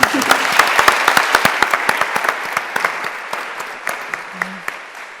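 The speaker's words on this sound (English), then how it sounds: "we can give you an applause to them and continue" Conference audience applause at an osteoarthritis patients' congress: a crisp, fairly loud burst of clapping from a seated crowd with distinct individual claps that gradually thin out.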